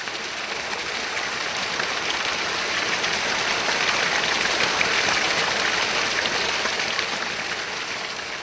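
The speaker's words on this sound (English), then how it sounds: "as the character gets closer to the actual waterfall, it gets louder" Steady broadband rushing of a video game jungle waterfall, even and continuous throughout, with no voices, swelling very slightly toward the middle.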